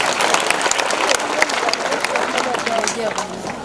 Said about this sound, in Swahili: Makofi kwa ndugu Maungu